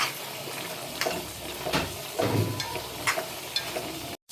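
Beef liver with curry leaves sautés in a pan, giving a soft bubbling sizzle as the liquid cooks off, with occasional stirring scrapes close by before an abrupt cut.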